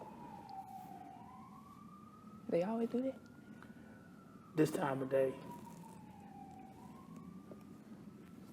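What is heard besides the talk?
sirens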